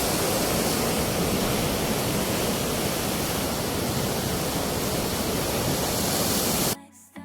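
Sea waves break on the rocks of Kovalam Beach in a loud, unbroken rush of surf and spray that fills nearly the whole stretch before cutting off abruptly near the end.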